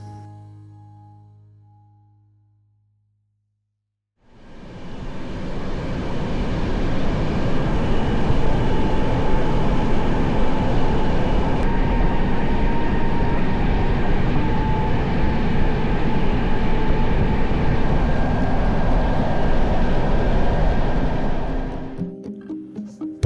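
The Doon Express train on its journey, heard from inside as a loud, steady rumbling roar of wheels and carriage that starts after a few quiet seconds and holds for most of the clip.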